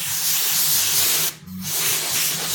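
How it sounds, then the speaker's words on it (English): An air hose set to about 60 blowing a steady loud hiss over freshly sprayed rattle-can granite paint, with a short pause in the middle before the blast resumes. "I'm going to grab the air hose here"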